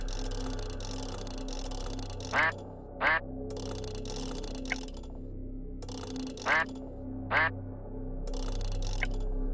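Cartoonish duck quacks from the puzzle video game Forgotten Hill Disillusion, sounding in paired bursts twice, repeating in a steady pattern over a low looping game soundtrack.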